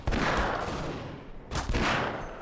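Gunfire in the shooter game Half-Life: Source, two loud, sustained bursts of rapid shots with a short gap between them, close and dense.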